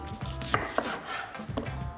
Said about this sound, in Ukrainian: Нарізаю цибулю дуже дрібно.